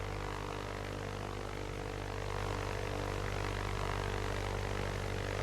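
Light aircraft engine in a flight simulator, a steady propeller drone that swells a little louder as power is added partway through, continuous and close with no talking.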